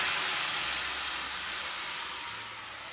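Rasam poured into a hot tempering with curry leaves gives a loud, steady sizzling hiss close up, slowly fading slightly over a few seconds.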